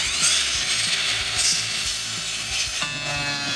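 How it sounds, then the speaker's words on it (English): Boards feed through a wood planer in a workshop, giving a steady, loud, bright whine and rough cutting hiss, with a sustained tonal drone appearing near the end and no talking. "I was kind of having to push those boards through a little bit, and normally my planer just pulls boards through."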